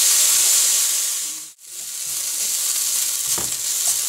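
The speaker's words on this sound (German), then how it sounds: "einfach ein bisschen anschwitzen, dass die Schärfe rausgeht und die Süße ein bisschen mehr rauskommt aus den Zwiebeln" Onions sweat in a pan with a soft, steady frying hiss that fades out briefly partway through, then returns and continues with faint crackling. Close-up, with no voices.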